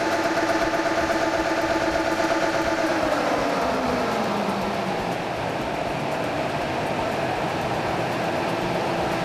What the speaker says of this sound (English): just going to run it up on the dyno now